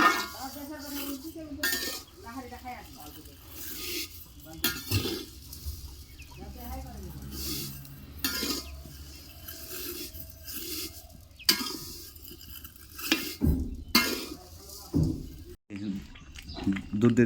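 Semai vermicelli is fried and stirred in a pan at home, with metal utensils clinking and scraping against the cookware in irregular bursts while people talk over it.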